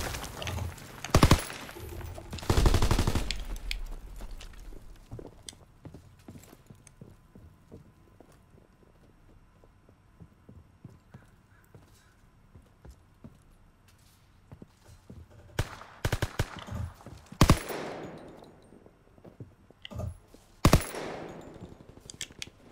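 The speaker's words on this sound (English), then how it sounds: "I missed every shot to this Grim Reaper." Scattered gunfire in a snowy World War II shooter game: a few loud bursts near the start, then sparse faint clicks and footsteps, and more sharp shots closer together toward the end, with no talking.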